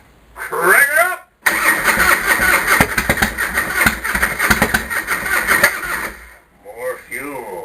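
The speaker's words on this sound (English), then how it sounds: "Crank it up!" A cold Harley Fatboy motorcycle with a big American V engine cranks, then catches and runs loudly and unevenly for several seconds before dropping off. Voices talk at the start and end.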